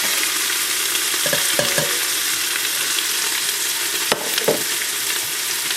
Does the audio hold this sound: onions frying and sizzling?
yes